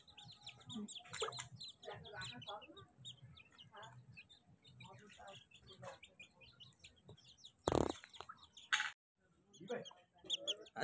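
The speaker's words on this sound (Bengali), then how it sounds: "এই মুরগির ডিম পারে, এটা পুরো দেশি মুরগি" Free-ranging desi hens cluck and chirp nearby in short irregular bursts, moderately close and fairly quiet, with a sudden loud rustling burst near the end and faint voices in the background.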